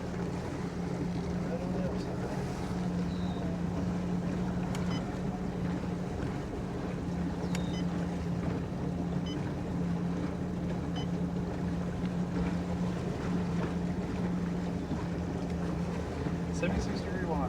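A 1973 Cobalt motorboat with a Mercruiser 165 hp engine cruises on the Mississippi River. The steady engine drone runs throughout, with wind and water noise over it.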